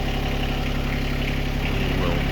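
A tractor engine idles steadily and close by in a workshop, a continuous low mechanical rumble with a faint regular throb and no breaks.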